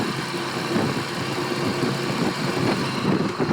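Cars on a Turkish road, a steady, fairly loud engine drone and road rush, heard continuously from inside or near a moving vehicle.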